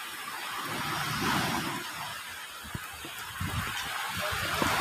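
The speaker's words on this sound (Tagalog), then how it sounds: "Naabutan na ako ng ulan." Rain beginning to fall outdoors, a steady broadband hiss of drops at moderate level with faint scattered taps and low background rumble throughout.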